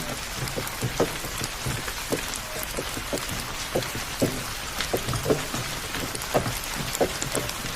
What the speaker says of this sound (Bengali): প্রায় 1 ঘন্টা ধরে বৃষ্টি হচ্ছে, বৃষ্টি থামার কোনো লক্ষণই দেখছি না।